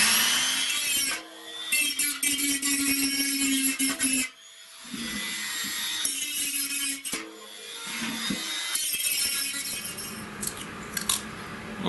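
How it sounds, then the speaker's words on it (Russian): Abrasive grinding on the sharp metal edges of an old washing machine drum, harsh scraping bursts that stop and restart in several passes, loud and close with no talk. "Поэтому сейчас притупляем эти кромочки."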